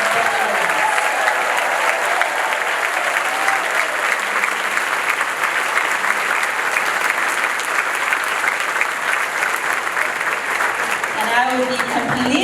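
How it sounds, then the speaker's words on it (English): A club meeting audience applauds the sheriff with sustained, dense clapping that fills the room for about twelve seconds, with a few voices mixed in near the end. "How about a big round of applause for our sheriff?"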